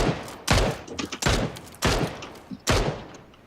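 Gunfire from a nearby factory battle in PUBG: four sharp, loud shots spaced irregularly, each with a short echoing decay, clear and up close.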